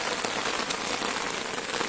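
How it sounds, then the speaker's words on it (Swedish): Rain falls steadily, a dense patter of drops on a surface, with nothing else heard. "Men Tina, nu börjar det regna mycket."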